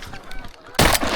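A flock of geese landing on a frozen river during a duck hunt gives a loud, close honking burst after a moment of soft rustling, the calls clustered and overlapping.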